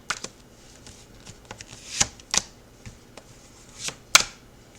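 Playing cards being handled and added to a deck for a reading, a sparse run of soft riffles and crisp snaps with quiet gaps between them, close and fairly faint, no voice present.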